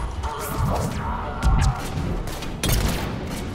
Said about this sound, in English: Because it's got an explosion to it now.